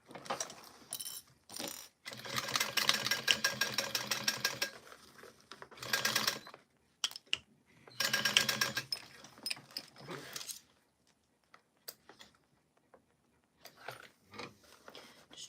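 A sewing machine stitches a crossbody bag seam in several close bursts of rapid mechanical whirring, stopping and restarting, with quiet gaps, small clicks and a voice speaking between runs.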